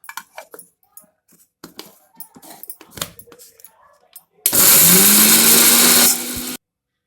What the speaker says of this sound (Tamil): நம்ம மிளகாய் மட்டும் தனியாக அரைச்சிக்கலாம்.